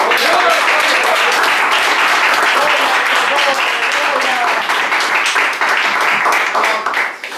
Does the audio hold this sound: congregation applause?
yes